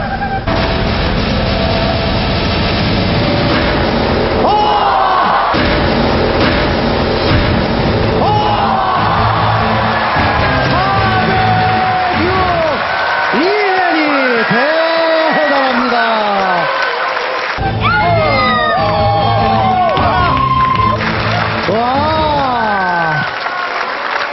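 A studio audience at the Korean music show Immortal Songs 2 applauds and cheers loudly and continuously, blended with music and voices that carry over the top.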